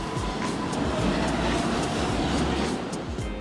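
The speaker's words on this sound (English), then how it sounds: "Riding the subway is always an adventure" Continuous roar of a New York City subway train in motion, heard from inside as a loud rumbling rush with faint periodic rattles and clacks, steady throughout.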